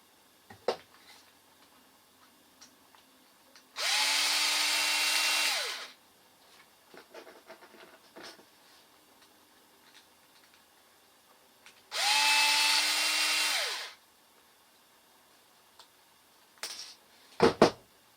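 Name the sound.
power drill removing screws from RC car motor cover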